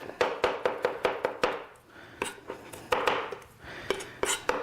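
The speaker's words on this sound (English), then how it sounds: "we're just going to chop a little bit up" A knife chops an onion for a bleu cheese burger, steady sharp taps on a cutting board in quick bursts with short pauses, close and clear.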